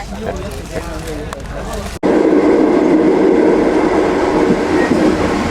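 Train noise in China: muffled rumbling and faint voices at first, then a sudden cut to a loud, close, steady roar of the train on the tracks, heard from inside the train toilet.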